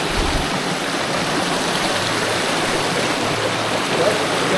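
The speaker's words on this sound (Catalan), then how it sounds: "Això és la font de la Saiola." Water pours steadily from the Saiola spring fountain, a close, continuous broadband rush that stays even throughout without any break.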